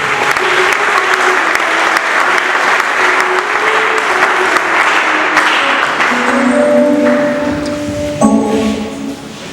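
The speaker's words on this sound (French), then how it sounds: "Et acclamons fort pour les Seigneurs." A church congregation claps and cheers together, a loud, continuous roar of hands and voices that holds steady for several seconds, with rising shouts and sung notes breaking through as it winds down.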